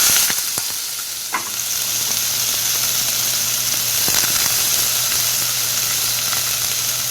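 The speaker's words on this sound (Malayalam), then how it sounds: "സവാള ഇട്ട് കൊടുക്കാം." Onions dropped into hot oil sizzle and crackle loudly and continuously, with a couple of sharp clicks early on and a dense frying hiss throughout.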